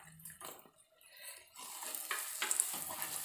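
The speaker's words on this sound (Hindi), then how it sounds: "डाल के इसके साथ इनको भी भून लेंगे।" Cashews, charoli and raisins roasting in a pan for suji halwa, with a soft sizzle that swells partway through under gentle stirring scrapes, close and fairly quiet.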